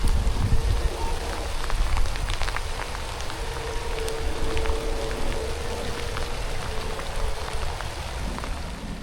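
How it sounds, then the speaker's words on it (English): Steady rain falls with some wind during a thunderstorm, a dense, continuous patter of drops on surfaces at moderate loudness throughout, with no distinct thunderclap standing out. "It's currently raining, there's thunder and lightning, there's wind"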